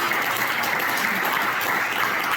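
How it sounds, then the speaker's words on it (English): Audience applause for volunteers at an arts centre's grand re-opening, a dense, steady wash of clapping from a crowd, close and continuous throughout with no talk over it. "Let's give the volunteers a applause."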